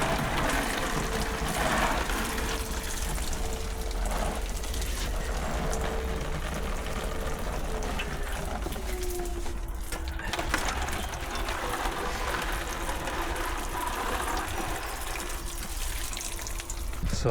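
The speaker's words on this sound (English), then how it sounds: "just give it a nice gentle watering." Gentle watering of newly planted-out plants in a garden bed, a steady soft wash of water trickling and spattering for the whole stretch, with faint mechanical clicks in the background.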